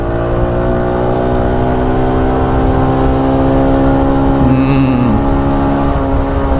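A TVS XL 100 Heavy Duty moped engine drones steadily and loudly while riding, with a continuous hum and slight pitch shifts as the speed changes.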